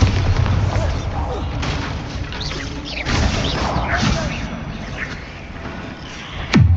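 Bombarda and Confringo spell blasts in the Hogwarts Legacy video game go off as a busy run of booming impacts and crashes over a game soundscape, ending with one sharp, loud crack.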